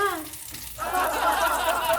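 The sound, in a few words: pork frying in a pan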